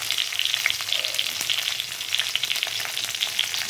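Green chilies sizzle and fry in a pan with salt for poha, a steady close crackle with bright popping spits and no voices.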